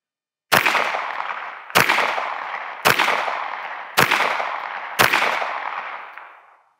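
Five loud pistol shots ring out one at a time, about a second apart, each a sharp crack followed by a decaying echo, during target shooting to zero a red dot sight.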